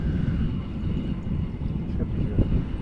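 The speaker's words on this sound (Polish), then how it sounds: "troszkę wieje" Wind blows steadily outdoors by the water at a fishing spot, a low, dense rumbling roar buffeting the microphone throughout with no breaks.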